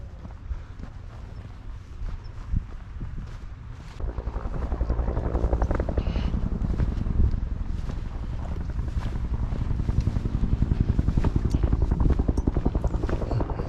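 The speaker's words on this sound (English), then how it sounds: "It's a helicopter." A helicopter passes overhead on a hiking trail in Sycamore Canyon, its rotor beat growing louder partway through and then holding as a steady, near thrum with some wind noise.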